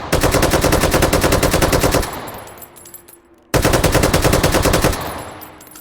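Rapid automatic gunfire with tracers in the VR shooter game H3VR: two long, loud, sustained bursts separated by a fading ringing tail.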